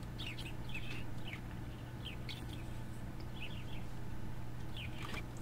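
Glitchy, chirping bird clucks from a corrupted Harvest Moon DS game come in short repeated bursts over a steady low droning hum, thin and distorted rather than natural.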